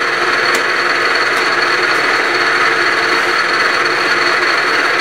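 A Bridgeport milling machine cuts with Niagara cutters at a shallow depth, giving a loud, steady whirring and hissing drone that holds unbroken throughout, with a few faint ticks.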